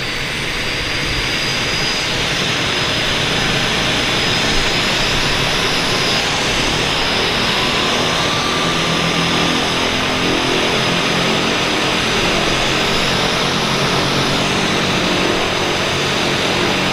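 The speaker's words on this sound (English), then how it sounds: "Our first departure is Twin Otter." A Twin Otter turboprop departing from a harbour airport produces a loud, steady, broadband engine roar with a high whine that stays constant throughout, close and continuous without voices.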